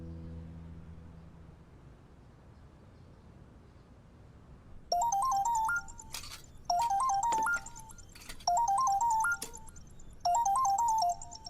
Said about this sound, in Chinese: 怎么突然打电话？